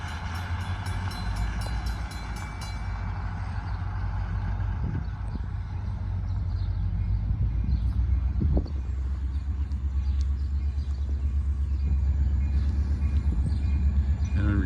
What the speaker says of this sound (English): here comes the train, eastbound through Sardinia